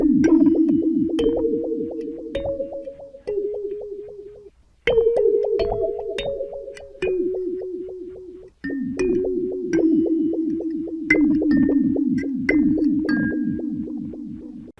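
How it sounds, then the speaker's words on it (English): Contact-miked kalimba through a Dwarfcraft Devices Ghost Fax phaser pedal: sustained plucked chords ring and decay in three phrases, with a swirling, pulsing phased shimmer over the tines and soft rapid ripples under each note. "This is kalimba contact mic going through the Dwarfcraft Devices Ghost Fax,"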